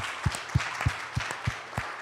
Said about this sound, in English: Clap for ourselves, everybody who is here.